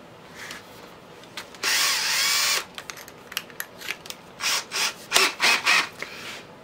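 An electric drill boring quarter-inch bolt holes whirs in a sustained burst, then runs in several short, loud pulses up close, with occasional tool clatter between.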